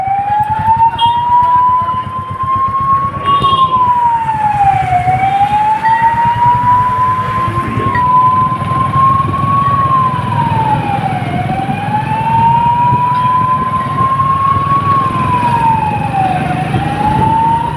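A loud fire engine siren wails continuously, rising and falling in slow repeated sweeps, with traffic rumbling underneath, in Kollam.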